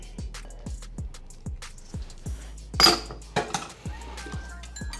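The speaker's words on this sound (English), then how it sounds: "I'm just gonna whisk these together real quick." A whisk clinks and taps against a bowl in a regular quick rhythm as honey is mixed into cookie ingredients, with one louder scrape partway through.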